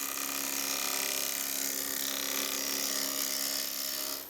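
A high-pitched power tool whines steadily while cutting a wooden banana bowl, one continuous close cut running alone before it tapers off.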